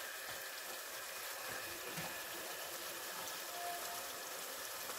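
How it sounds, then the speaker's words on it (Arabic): Water trickles into a pan of thick sauce for roast duck, a soft, steady pouring hiss at low volume with no talking. "احط شويه ميه"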